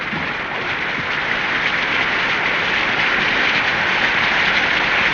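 Steady rain sound effect from a 1939 Sherlock Holmes radio drama, a dense, even hiss of downpour that holds at a constant level throughout, with no voices.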